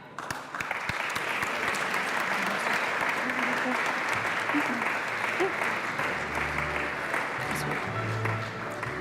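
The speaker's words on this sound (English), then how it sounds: "please welcome with a big round of applause to the stage the national winners from Austria" Sustained audience applause at a youth prize ceremony in Aachen as national winners from Austria come to the stage, a dense, loud wash of clapping throughout with some low music or crowd sound underneath.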